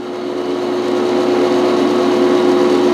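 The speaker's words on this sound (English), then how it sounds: "let's start drilling." Drilling in a home workshop while building a wood lathe, with the drill motor running at speed. A loud, steady whine with a sustained hum holds evenly for the whole stretch.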